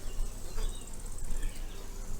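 Honeybees at an open hive during a beekeeping inspection, with the colony laying well and stocked with winter honey reserves, make a steady, dense buzzing hum that stays close and continuous throughout.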